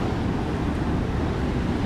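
Stormy evening sea waves roar against the Yalta embankment in winter, a dense, loud, continuous wash of surf mixed with wind noise, with no voices.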